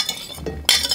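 Peanuts, celery and carrot being stirred together in a bowl, with a few light clinks of a utensil against the dish and a brief louder scrape near the end, close and short.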